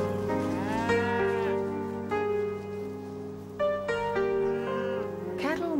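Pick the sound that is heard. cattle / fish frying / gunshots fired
cattle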